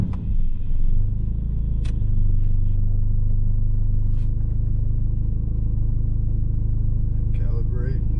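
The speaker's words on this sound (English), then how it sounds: "Start the car up real fast." A Nissan 240SX's KA24E engine cranks and catches on its first start after new fuel injectors, then settles into a steady low rumbling idle, with a few brief clicks and clatters over it.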